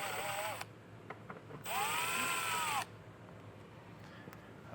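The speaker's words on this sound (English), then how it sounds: "We can take a T30 star bit, and we'll just undo the screws on both sides" A power driver with a T30 star bit backs out screws on a 2023 Jeep Grand Cherokee, with two whirring bursts, a short one and then a longer steady spin, separated by quiet handling noises.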